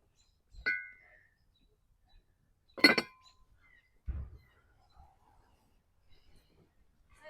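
Glass pieces clink during an unboxing, sounding as a few separate sharp clinks and knocks spaced out over several seconds, close and fairly quiet.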